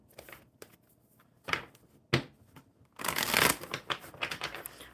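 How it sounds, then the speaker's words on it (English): Oracle cards being shuffled by hand, a few soft riffles at first, then a longer, louder burst of rapid flapping and sliding close up, with no talk over it. "One more good shuffle for the old crone."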